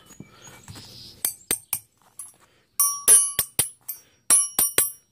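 A steel 13 mm flexible ratcheting wrench from a budget Chinese set gives sharp, close metallic clicks with a bright ringing edge, coming in quick irregular bursts separated by brief pauses.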